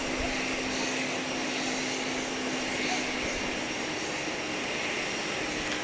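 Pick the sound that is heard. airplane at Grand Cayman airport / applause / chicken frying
airplane at Grand Cayman airport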